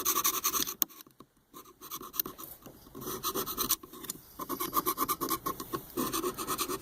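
Scrubbing a BlueBird Wanderlodge RV door latch clean of old dried grease: rapid, raspy back-and-forth scratching strokes, close and fairly loud, in bursts separated by short pauses, with no talk.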